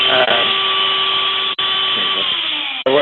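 A rotary tool fitted with a diamond burr carving antler: a loud, close, high-pitched steady whine, cut off abruptly twice by brief dips as the tool bites or is lifted, with no voices over it.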